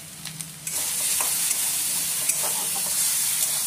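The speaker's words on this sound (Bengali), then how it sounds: "মশলাটা কষে নেব।" Spices sizzle in a hot pan for dal: asafoetida, ginger and green chilli paste, dried chilli, turmeric and cumin powder. The frying hiss is continuous and close, with a few light stirring clicks over it.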